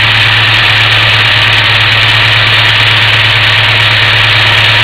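A car engine idles at close range with a steady, loud, even hum and a constant low drone, with a vacuum line from the fuel pressure regulator being plugged and unplugged. No one speaks over it.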